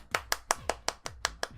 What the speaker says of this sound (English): round of applause for the robot.